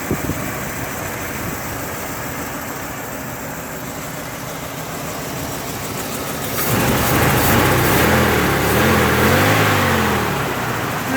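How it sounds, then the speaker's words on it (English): A 1969 Ford Bronco half-cab engine runs steadily and close by at idle, then grows louder partway through with a rising and falling rev before settling. "the engine's a bit quieter now"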